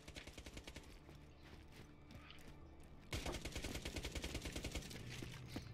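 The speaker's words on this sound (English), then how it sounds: "These SMGs are out of control." Rapid SMG gunfire at a firing range in Borderlands 2, dense continuous bursts of close, punchy shots that grow louder and sharper midway through and keep a fast, even rhythm.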